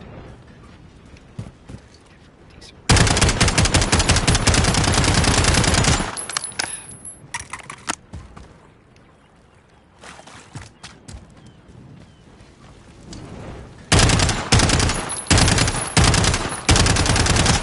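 Automatic weapon fire in Call of Duty, loud sustained full-auto bursts of dense rapid shots, one long burst early, then choppier short bursts, quiet gaps between them, and a final run of heavy bursts.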